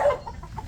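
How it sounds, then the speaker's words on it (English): Chickens in a backyard give a few short, close clucks, a louder squawk at first followed by softer bursts in quick succession. "There's more chickens."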